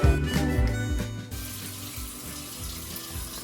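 A kitchen tap runs steadily over lettuce being washed in a sink, a close, continuous splashing rush that lasts throughout with no talking.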